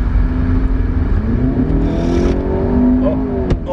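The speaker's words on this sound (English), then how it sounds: "But how fast can this car really go?" A Range Rover accelerates hard from inside the cabin, a steady loud engine drone rising in pitch over several seconds, with a short sharp knock near the end.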